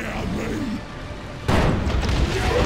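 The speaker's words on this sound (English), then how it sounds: "Heavy gunfire." Heavy gunfire in the Dawn of War Retribution Orks campaign, a sustained rumbling barrage that jumps abruptly louder midway and stays dense and heavy to the end.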